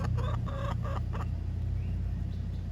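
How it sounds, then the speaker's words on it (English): Backyard hens give a few soft, close clucks in quick succession near the start over a low background hum, then go quiet. "So they are used to being backyard chickens."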